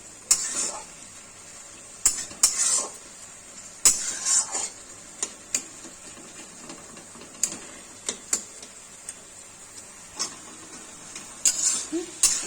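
Bitter beto shak greens being stirred in a frying pan as the water cooks off, with intermittent scraping clatter of a spatula against the pan over a steady background hiss.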